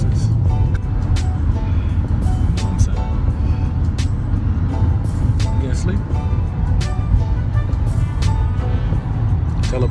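Steady road rumble and engine drone heard from inside a moving car, constant and fairly loud, with people talking throughout over the cabin noise.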